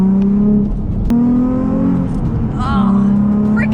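A Nissan 350Z engine revs loudly and close, the pitch climbing and dropping through several pulls with a steady throaty drone between.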